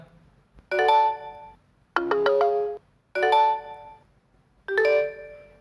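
Mobile phone message tones previewed one after another: four short chiming alert melodies separated by brief pauses, each ringing out cleanly and near over a faint low hum.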